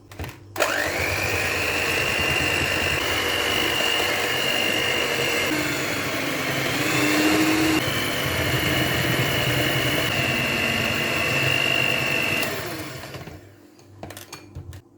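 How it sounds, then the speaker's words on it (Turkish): An electric mixer whips eggs and sugar until creamy for a spiced carrot cake, a steady, loud motor whine running almost without a break before cutting off near the end. "Üzerine 2 çay bardağı toz şekeri ilave edip krema haline gelene kadar yaklaşık 5 dakika çırpıyoruz"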